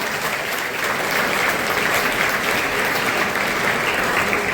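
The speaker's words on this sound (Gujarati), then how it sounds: "ફરીથી એકવાર ડોક્ટર કિરણભાઈ સાહેબ માટે એકવાર જોરદાર તાળીઓ જોઈએ" An audience at a school celebration of World Mother Language Day applauds a guest speaker. The clapping is loud, dense and sustained, spreading evenly across the whole room without a break.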